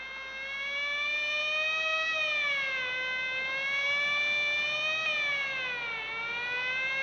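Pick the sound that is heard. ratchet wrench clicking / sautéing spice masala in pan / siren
siren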